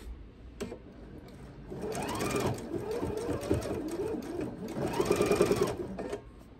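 A sewing machine stitches quilt binding, running in bursts of close, rhythmic mechanical whirring that speeds up and slows, with brief pauses between runs.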